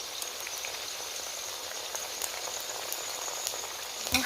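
Sago palm weevil larvae fry in oil until crisp, a soft, steady bubbling hiss with scattered light pops and one louder crackle at the end.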